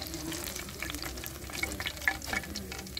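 Onion pakoras fry in hot oil with dense, close crackling and bubbling, busy and continuous with small pops throughout.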